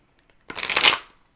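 Tarot cards are riffled in one quick, chunky shuffle, a dense papery burst lasting about half a second, close and fairly loud in an otherwise quiet room.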